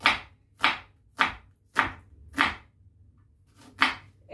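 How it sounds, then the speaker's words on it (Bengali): Onion being chopped on a board for a chicken dish with cauliflower and carrot: seven sharp knife strikes, close and fairly steady, with one brief pause before the last two. "পেঁয়াজটা আগে কাটি"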